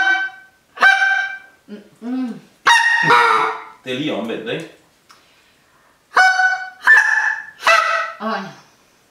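A handheld goose call is blown to mimic a Canada goose, giving loud, close, repeated nasal honks in short bursts and pairs, with a brief spoken remark between calls.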